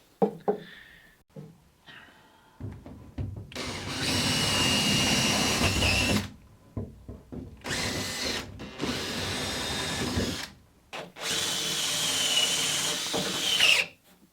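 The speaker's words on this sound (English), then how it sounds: "I've kind of sanded out these holes a little bit so we got a nice easy fit" Power sanding inside holes in wooden parts for a Catalina Wherry boat, a loud steady buzzing tool in several long bursts separated by short pauses, with a few small handling knocks between runs.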